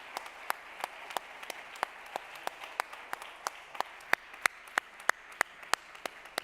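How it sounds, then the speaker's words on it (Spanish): Audience clapping for Padre Ángel at a retail summit. It comes as quiet, evenly spaced sharp claps in a slow, steady rhythm with no talk over it. "Un fuerte aplauso para usted."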